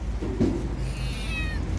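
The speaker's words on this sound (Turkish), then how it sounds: "Marketin önünde bekliyor siyah kediler" Black cats waiting outside a market, with one giving a short, fairly close meow over steady outdoor background noise and a faint high whine.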